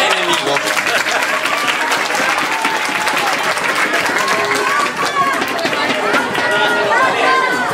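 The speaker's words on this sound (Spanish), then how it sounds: "un aplauso para estos dos enemigos" Loud applause from a lively crowd at a Mallorca event, continuous and dense with cheering voices and chatter mixed in throughout.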